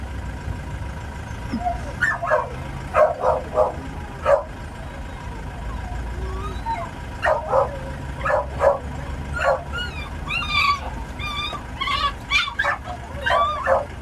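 Repeated short, high yips from a small dog, coming in scattered bursts over a steady low rumble, with faint talk in the background.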